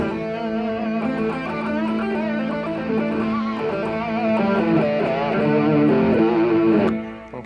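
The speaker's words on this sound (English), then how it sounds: "Okay, the pentatonic scale is going to sound like this." A keyboard with a distorted patch runs through a pentatonic scale, gritty sustained notes stepping up and down in a continuous, fairly loud line before a sudden cutoff, with no talk.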